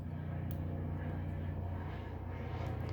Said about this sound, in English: You can hear a helicopter on the camera.